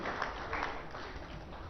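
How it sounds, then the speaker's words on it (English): Faint, distant applause from a seated audience at a Telangana State Forest Department national workshop, welcoming minister K.T. Rama Rao; a continuous wash of many hands heard from far off. "please help me with a big round of applause, our young dynamic minister, Honorable K.T. Ramarao Garu"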